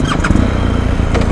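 A BMW R 1250 GS motorcycle engine starts and runs with a loud, rough, tractor-like rumble that stays steady and close, with no talking.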